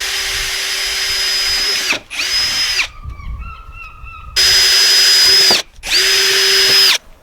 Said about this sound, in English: Then I'm going to drill some holes here